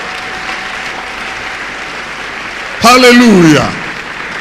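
A church congregation applauding in a steady, sustained wash of clapping, with a loud voice calling out briefly over it near the end.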